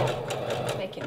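A sewing machine runs a zigzag stitch of width 5.5 and length 1.5 while stitching bra fabric, a steady rapid mechanical whirring with regular needle pulses, close by, with a voice partly over it.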